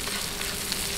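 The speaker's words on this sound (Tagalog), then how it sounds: "isunod natin yung ating sibuyas. Buhaluin lang po natin." Onion and ginger sautéing in a hot pan for a Filipino milkfish soup, a steady dense sizzle and crackle with faint stirring throughout, close and continuous, no voices.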